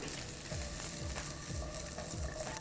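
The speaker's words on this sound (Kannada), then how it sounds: "ಇದು ಸ್ವಲ್ಪ ಎಣ್ಣೆಯಲ್ಲಿ ಬಾಡಿಸ್ಬೇಕು." Garlic and ginger, with onion, sauté in a little oil with a soft steady sizzle and a few faint stirring scrapes, quiet and close.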